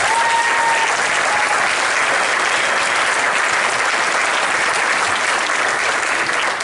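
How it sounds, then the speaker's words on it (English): A big, sustained round of applause fills a school board meeting room, dense clapping from the gathered audience holding steady and loud for several seconds. "They deserve a big round of applause."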